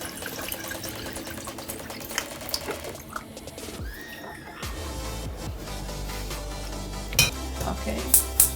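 A saucepan is handled with metallic clanks and clinks, then tap water pours steadily into it for boiling corn flour, with sharper knocks of the pan near the end; no one speaks.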